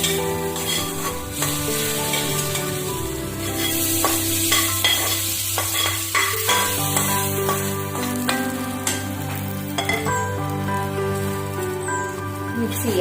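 Hot coconut-oil onion tempering poured over cooked tapioca and stirred in, with steady sizzling and scraping stirs running continuously over a low hum, close and fairly loud throughout, with no one talking.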